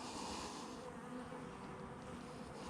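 Honeybees buzzing thickly around an open hive during an inspection of a weak, mold-affected colony, a dense continuous drone close by with no talking.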